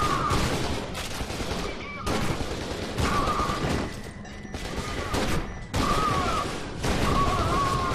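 Sustained bursts of automatic gunfire and explosions in the first-person shooter F.E.A.R. 2, dense rapid shots rolling continuously at close range with short gaps between volleys and loud, crunchy impacts.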